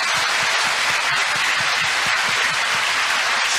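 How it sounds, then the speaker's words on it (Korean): Dense, loud applause from a church congregation during a healing and testimony revival meeting at LA Sarang Church, a steady wash of many hands clapping for several seconds with no speech over it. "주님께 우리 박수를 한번"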